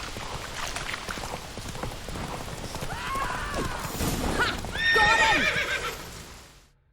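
Horse in The Witcher 3 galloping with steady clip-clop hoofbeats and loud whinnying neighs, building to a near, strong neigh before fading out.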